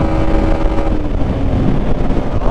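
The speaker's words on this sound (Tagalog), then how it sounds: "kapag nasa 5th gear tayo, tignan nyo mag-over na tayo, mag-over RPM tayo" A Yamaha Sniper 155 motorcycle engine over-revs in 5th gear, making a loud, steady, high-RPM drone mixed with rushing wind noise that continues without a break.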